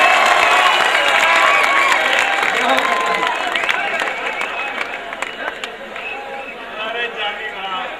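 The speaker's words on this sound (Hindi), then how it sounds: "एक बार दोनों हाथ को उठा करके ताली बजाइए।" Crowd clapping at a kavi sammelan, a Hindi comic poetry gathering, loud at first and thinning toward the end, with cheers and chatter underneath.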